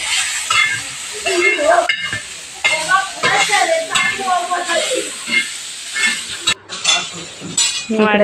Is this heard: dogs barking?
no